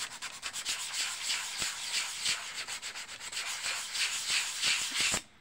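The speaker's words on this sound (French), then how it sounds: "il n'y a pas longtemps à poncer" A wooden gift is sanded by hand with rapid back-and-forth strokes, a close, steady rasping scrape that pulses in a quick rhythm for several seconds before stopping abruptly.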